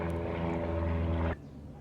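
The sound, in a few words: airplane flying overhead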